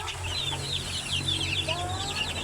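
Naked-neck chickens clucking in a coop, a cluster of short overlapping clucks and squawks, close and fairly busy, over a low steady hum.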